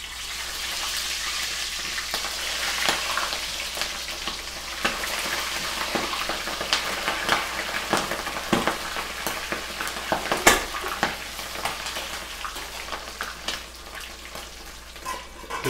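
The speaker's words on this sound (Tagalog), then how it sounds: "Okay, prito pa natin yung iba." Crispy pork pata deep-frying in hot oil sizzles and crackles steadily, with sharp pops and spatters rising and falling close by.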